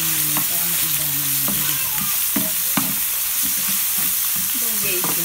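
Ground pork frying in a pan for adobong kangkong with giniling, a steady sizzle broken by repeated scraping stirs, close and fairly loud, no talking.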